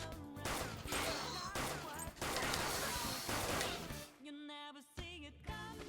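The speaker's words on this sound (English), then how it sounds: "You can continue shooting until you run out of ammunition." A gun in Persona 5 Royal fires in rapid, dense bursts for several seconds. A brief break follows with game music and a voice, then the firing resumes.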